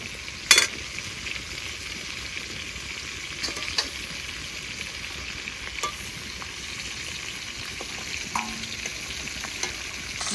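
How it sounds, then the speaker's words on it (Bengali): Native jiol and magur fish fry in hot oil in a home village kitchen, a steady, even sizzle with a sharp pop near the start and a few soft clinks and crackles scattered through. "দেখতে দেখতেই সব মাছ ভাজা হয়ে গেল।"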